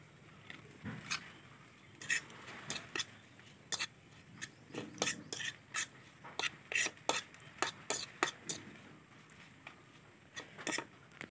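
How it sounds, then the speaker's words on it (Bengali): A utensil stirs and scrapes Maggi masala into fried egg in a pan, giving a long run of quick irregular metallic clicks and taps up close, with no one speaking. "এই মশলা দুটো ডিম ভাজার সাথে ভালোভাবে মিশিয়ে নিব"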